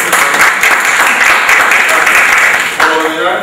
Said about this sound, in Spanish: vamos a dar un aplauso a los compañeros